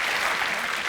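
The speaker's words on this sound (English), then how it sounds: "I think that deserves a round of applause." Studio audience applause on a British comedy panel show, a dense steady burst of clapping lasting about a second with no voices.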